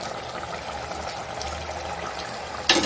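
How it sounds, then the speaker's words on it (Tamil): Mutton curry boiling in a pot at home: a steady, close bubbling simmer with faint gurgles, ending in a brief louder clatter, with no one speaking. "பாருங்க நல்லா கொதிச்சிருக்கு நல்லா கொதிக்கிட்டோம்"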